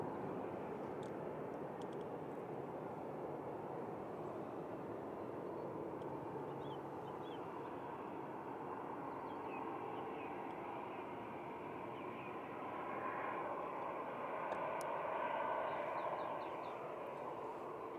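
A TUI airliner touching down on the runway, a distant steady jet rumble that swells slightly near the end, with faint intermittent chirps above it.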